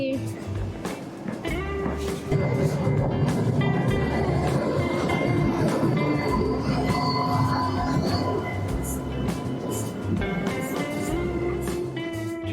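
A Boston subway train runs with a steady, loud rumble and rattling wheels, tonal squeals and hums rising and shifting across the whole stretch, with some faint voices mixed in.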